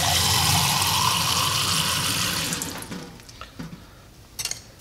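Water poured off floating rose seeds into a sink, a loud steady rushing and splashing for about two and a half seconds that tapers off, followed by a few small drips and light clatters.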